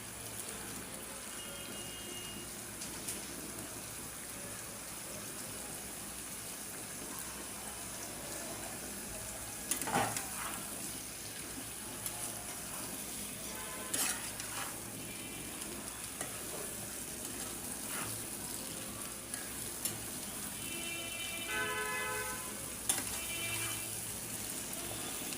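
Bottle gourd pieces hitting a pan of cooked-down shrimp, with a steady low sizzle and occasional clinks and scrapes of stirring, close and moderately loud throughout.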